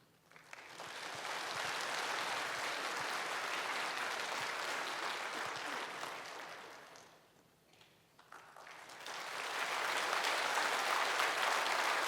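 A church congregation applauds newly appointed shepherds at a Sunday service. Sustained clapping fills the room, fades briefly, then rises again into a second long round.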